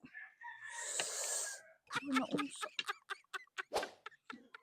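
Chickens squawk and cluck up close, with one long drawn-out call followed by a burst of quick, choppy squawks.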